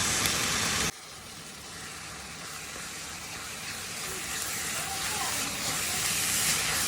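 Garlic, onion and ground chicken sauté in a pan with a steady, dense sizzling hiss. It starts with a brief louder burst, then settles into continuous frying noise.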